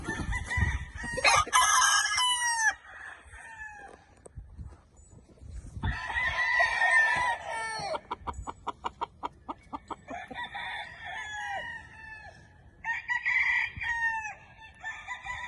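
Roosters crow repeatedly amid busy clucking and cackling from a flock of chickens on an Alabama farm, fairly close, with a rapid rattling trill in the middle.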